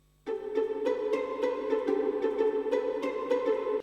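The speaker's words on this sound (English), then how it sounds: "let's try a string, but then put it as a pizzicato" Plucked pizzicato strings play a simple, innocent-sounding melody for a soundtrack to the indie game Wrath of the Mad King, with short, evenly spaced notes ringing clearly and alone.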